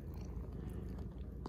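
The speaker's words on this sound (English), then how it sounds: "Kind of hear her purring" An old cat, about 14 years, purrs close up, a soft continuous low rumble that holds steady throughout.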